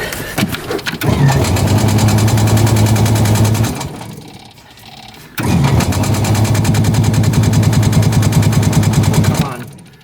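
Tracked all-terrain machine engine cranking and catching, a loud steady roar running for a few seconds, dropping away briefly, then roaring again close by.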